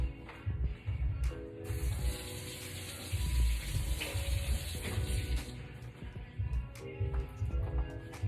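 A kitchen tap runs steadily while a small hot pepper is rinsed under it: a soft, continuous hiss of flowing water with light splashing and faint handling noises, fairly quiet and close.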